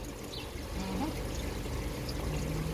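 Water runs out steadily from a reverse osmosis system being flushed, a faint, continuous pouring trickle heard at a distance.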